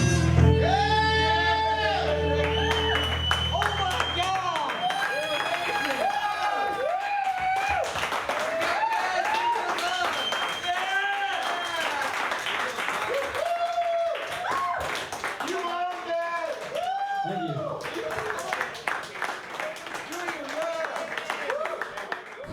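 A crowd applauds and cheers after a dance performance, with sustained clapping and shouts under loud, excited voices and whoops for the whole stretch.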